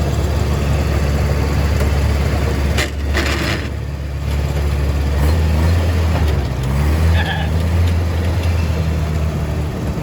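A 1954 Willys military jeep engine idles loudly and steadily, its low rumble continuous throughout with a slight dip partway through, no talking.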